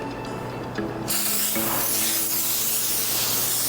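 Pre-treat cleaner sprayed onto a car's painted panel during detailing: a sharp broadband hiss bursts in after a quiet start and continues as a steady spray over a low background hum.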